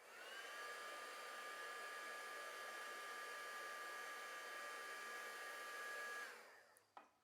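An embossing heat gun shrinking shrink plastic gives off a steady, fairly quiet whooshing hum with a faint whine, running evenly for about six seconds before it is switched off and a small click follows.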